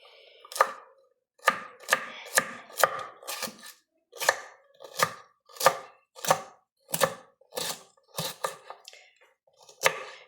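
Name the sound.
chopping food into thin slices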